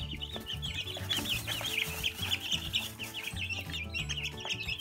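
Young chicks clucking and peeping at an indoor brooder, a steady run of soft, close chirps over low clucking with no talking.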